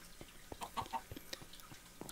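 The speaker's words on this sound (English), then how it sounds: "I want to have tons and tons of chickens down here." Chickens cluck in the Minecraft Skyblock video game, a few quiet, short game-sound clucks spaced across a brief moment.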